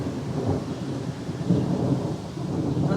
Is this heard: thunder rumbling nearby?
yes